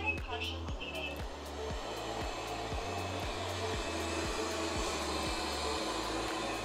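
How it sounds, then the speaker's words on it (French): An M203 robot vacuum cleaner running in spiral mode gives a steady close whirring motor drone with a repeating low rhythmic pulse throughout. "comme on peut entendre ici, l'aspirateur a plusieurs niveaux d'aspiration, de 1 à 4 aspirations"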